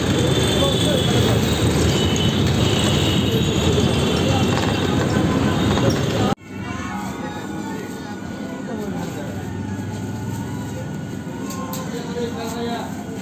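Steady rumbling and rattling inside a moving train, loud and continuous, with a sharp cut partway through after which the rolling noise carries on slightly lighter; voices murmur under it.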